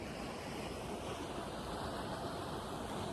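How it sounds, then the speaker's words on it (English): Rushing river water in Yoho National Park, a constant broadband roar of running water, steady and fairly close with no pauses, plus a touch of wind. "all you can hear is the water running"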